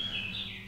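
A single thin, high bird chirp drawn out into a short descending whistle, faint against a low steady hum of room noise in a home recording studio.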